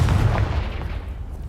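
Confringo fire spell explosion in Hogwarts Legacy, a single loud, low blast with a booming body that rolls off over about a second, heard alone.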